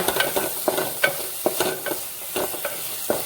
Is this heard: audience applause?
no